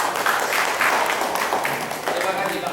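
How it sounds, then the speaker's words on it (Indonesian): Attendees at a school reunion gathering clap together in a short burst of applause, fairly full and steady, with voices mixed in beneath the clapping. "Mari kita tepuk tangan."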